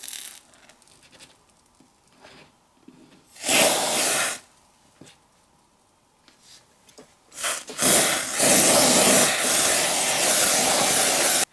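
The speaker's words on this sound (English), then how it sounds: "I just wanted to see what it would look like if we sprayed it upside down with some compressed air." Compressed air sprays upside down onto a NECA Terminator 2 Kenner tribute White Hot T-1000 7-inch action figure, first as a short hissing burst and then as a longer, louder blast, with quiet handling noise in between.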